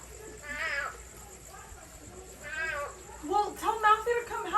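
A cat meows outside a house on a summer night, a few drawn-out wavering cries spaced apart, growing louder and more agitated toward the end.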